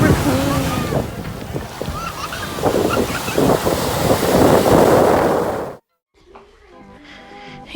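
Ocean waves break and wash onto a beach in a loud, continuous rush with heavy wind noise, then drop away abruptly near the end, leaving faint background sound.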